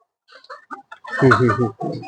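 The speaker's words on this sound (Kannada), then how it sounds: "ನೋಡಿ ನೋಡಿ ಅಲ್ಲಿ ಮೊಟ್ಟೆಗಳು, ಕೋಳಿಗಳು ನೋಡಿ ಅಲ್ಲೇ" Chickens on a farm cluck in short, close bursts, building to a louder run of clucks in the second half.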